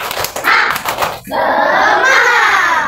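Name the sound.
schoolchildren's rhythmic 'tepuk semangat' clapping chant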